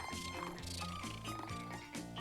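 A cartoon cat gives a meow-like call amid music and sound-effect layers in an animated episode, a short, tuneful cry close up and fairly loud.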